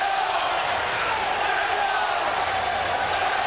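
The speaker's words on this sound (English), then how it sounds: "And the crowd at ringside chanting, Željko, Željko." Ringside boxing crowd chanting a fighter's name, a dense continuous roar of many voices filling the arena at steady loudness throughout.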